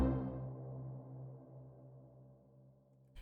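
A basic synth pluck played from a WAV file: one sharp attack that rings into a long, slowly fading tonal tail, heard alone, with a brief burst of noise at the very end.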